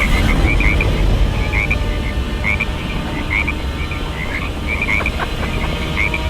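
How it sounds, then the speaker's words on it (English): Frogs croaking in a loud chorus, repeated rattling calls coming in clusters over a steady low background rumble, with no talking. "Those are frogs, Lee."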